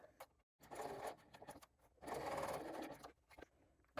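A sewing machine stitches coordinating trim around a fabric tag, running in two steady bursts with a brief stop between them and quick starts and stops around them, close and fairly quiet.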